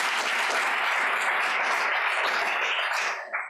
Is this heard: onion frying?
no